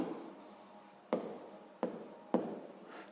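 Chalk or marker writing on a board during a sixth-grade maths lesson: a soft continuous scratching with three sharp taps spaced about a second apart, fairly quiet and without talk.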